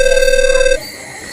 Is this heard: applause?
no